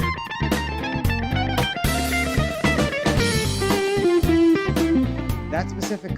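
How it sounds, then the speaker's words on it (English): A jazz enclosure line descends a scale, note by note in a busy, steady run, played loud over a full backing of bass and drums with no talking. "if I just use enclosures and go down the scale, it sounds like this"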